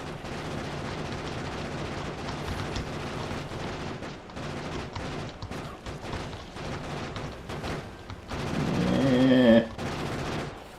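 Rapid automatic fire from a gun turret in Factorio, rattling in dense bursts across the whole stretch with a louder swelling rumble near the end, heard mostly on its own.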